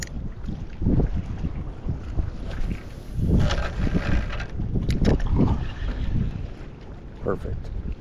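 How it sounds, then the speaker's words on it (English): Wind blowing north across open water around a fishing boat, buffeting the microphone with a steady, loud rushing rumble that swells and gusts throughout. "With this wind blowing north, it'll catch me for sure."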